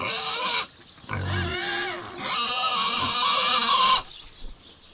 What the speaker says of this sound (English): I'm going to give these pigs some milk.